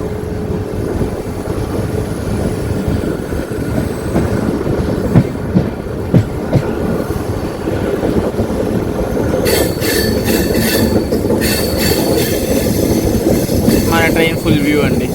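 Tambaram express train rolling toward Pamban Bridge over the sea, a steady continuous rumble of wheels on track throughout, with faint clatter and brief higher squeals and rattles in the latter half.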